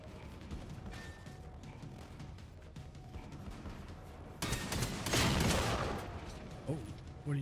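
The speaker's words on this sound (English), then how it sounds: "what are you shooting at over here?" Gunfire in the video game Generation Zero: a run of loud, crackling shots bursts in about halfway through, following a stretch of quieter game ambience with a brief sharp tonal sound near the end.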